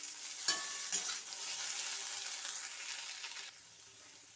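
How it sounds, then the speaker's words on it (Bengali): Okra (bhindi) fries in a pan, a dense steady sizzle, close and fairly loud, broken by a couple of sharp clinks of a spoon stirring. "দিয়ে আবারও কিছুক্ষণ ভেন্ডি ভেজে নেব।"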